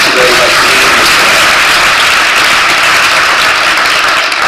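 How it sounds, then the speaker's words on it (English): Audience applause at a community event, a loud, dense, continuous wash of clapping that fills the space without pause, with voices mixed in. "Let's give them another round of applause"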